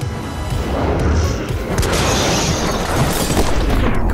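Rapid, loud gunfire crackles from two guns fired at once in the action video game My Friend Pedro, a dense stream of booms and impacts over a few seconds.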